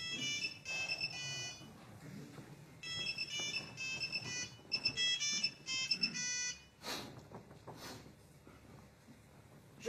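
A phone ringtone plays in repeated melodic bursts, moderately loud in a quiet room, with a brief voice partway through and some rustling as it cuts off.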